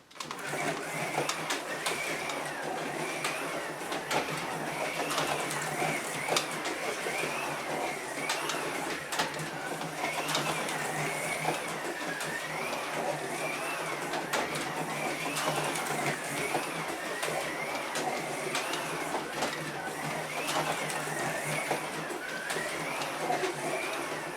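A slot car with freshly trued tires laps the track, its small electric motor giving a steady high whine that rises and falls in a repeating rhythm as it circles, continuous and fairly close throughout with no talking.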